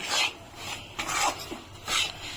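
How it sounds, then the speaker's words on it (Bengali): A cup of semolina is stirred in hot ghee in a pan over a low flame for a milk cake, giving soft raspy scraping strokes that swell roughly every second, close and fairly quiet. "সুজিটা এখন লো ফ্লেমে 10 মিনিট ধরে নেড়ে নিতে হবে।"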